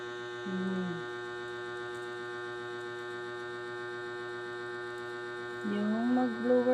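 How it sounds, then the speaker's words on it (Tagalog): A ceiling fan running indoors gives a steady electric hum with layered tonal whine throughout, while a person makes brief murmuring sounds at the start and end. "Yung mag-blower ka gamit yung ceiling fan."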